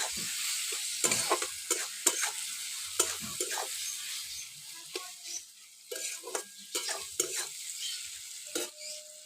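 Taro stolons frying in a pan with turmeric, chili powder and salt, a soft sizzle broken by repeated scraping strokes of a spoon at an irregular pace, close by, with no talk.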